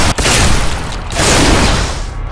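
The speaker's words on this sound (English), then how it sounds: "My favorite weapon in there would probably be the shotgun." A shotgun fires in the shooter video game Bodycount, a loud booming blast followed by a rumbling, crackling tail that fills the whole clip.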